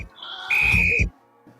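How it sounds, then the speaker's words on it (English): A whistle sound effect cuts in as a single loud, sustained high whistle lasting about half a second over a noisy burst, then ends abruptly. "We shall now grant you the whistle of hilarity."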